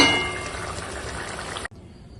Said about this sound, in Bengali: তরকারিটা এবার ঢেলে ফেলবো